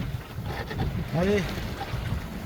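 Steady wind rushes over a sailboat sailing close-hauled in light breeze near wind turbines, a continuous moderate roar with a brief whistling tone, while a voice speaks over it.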